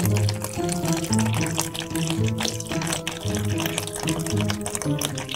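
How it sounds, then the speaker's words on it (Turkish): Water flowing steadily out of a straw at the bottom of a capped container, heard as a continuous close trickle and gurgle with light dripping over a low steady background. "En alttaki pipetten çıkan suyun sabit bir hızda akmasını sağlamak."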